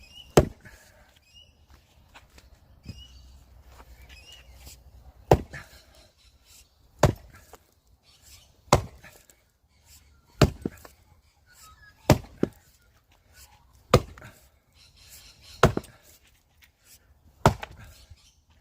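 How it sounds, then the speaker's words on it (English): A sledgehammer drives metal splitting wedges into very hard timber rounds, giving about a dozen sharp ringing strikes spaced a second or two apart and growing more regular and forceful, with quiet rustling between blows. "So it was a lot easier splitting it with the wedges, I can tell you."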